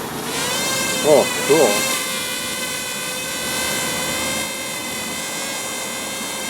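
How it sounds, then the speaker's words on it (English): A Parrot Rolling Spider minidrone takes off and flies, giving a steady, close, high-pitched whine of small propellers that holds through the clip, with brief speech partway in. "I'm going to hit the takeoff button"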